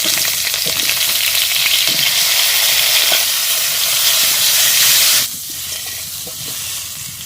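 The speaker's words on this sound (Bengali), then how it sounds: "দিয়ে আলু কটা একটু ভেজে নেব" Potatoes fry with turmeric in hot oil for village-style chicken biryani, a loud, close, hissing sizzle with occasional stirring that drops suddenly to a quieter fry after about five seconds.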